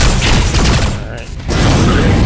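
Broadside cannons fire from a ship in the space game Rebel Galaxy, with a loud, continuous barrage of booming shots that dips briefly and then resumes at full force.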